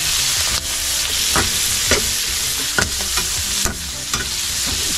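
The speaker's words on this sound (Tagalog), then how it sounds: "lagyan na natin itong ating panglikado. Meron tayong sili, sibuyas, saka bawang." Chili, onion and garlic sautéing in hot oil, a loud constant sizzle close up with repeated sharp scrapes and clinks of a spatula stirring the pan, no voices.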